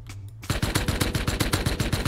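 AK rifle firing fully automatic in a video game, a rapid, evenly spaced string of loud, close shots that starts abruptly and keeps going.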